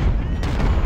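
Cannon fire in Ultimate General: Civil War during the Fredericksburg battle creates a loud, continuous low rumble of artillery lasting about a second, with no distinct single blast standing out.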